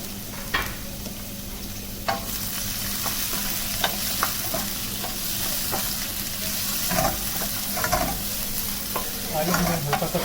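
Capsicum frying in a pan for vegetable spaghetti: a steady, close sizzle with a spoon repeatedly stirring and scraping, and no voices.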